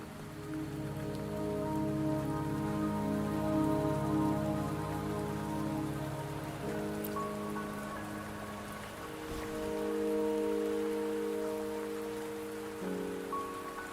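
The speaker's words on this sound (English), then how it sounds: "Don't worry, the rain won't last much longer." Steady, dense rain pours down in a video game scene, a continuous hiss of drops on surfaces with a soft tonal bed beneath, holding level throughout with no voices.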